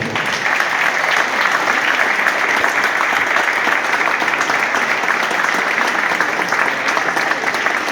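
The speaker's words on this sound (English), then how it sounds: "big round of applause?" Sustained applause from a crowd of parents and families at a Manchester City football development programme graduation, steady and loud throughout without a break.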